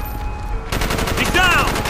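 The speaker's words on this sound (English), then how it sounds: "Bowman, Carlos, lay down covering fire." Rapid automatic gunfire bursts out loud and close in a first-person war shooter as squadmates lay down covering fire in city streets, a dense rattling fusillade after a quieter lead-in, with a voice shouting briefly.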